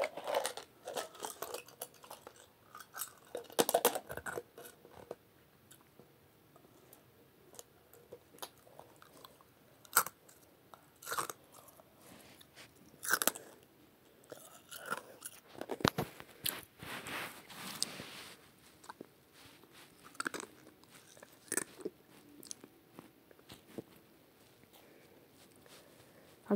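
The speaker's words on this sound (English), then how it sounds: "That's the sound of me chewing on ice." Ice chewed right at the mouth, a long run of irregular sharp crunches and bites, some loud and some faint, with quiet pauses between bursts and no talking.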